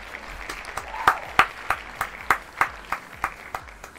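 Applause sounds as a series of sharp, evenly spaced claps, moderately loud and fairly close, over a quiet background with a faint voice underneath.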